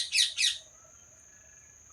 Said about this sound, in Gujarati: મસ્ત મજાના પોપટ આવી ગયા હે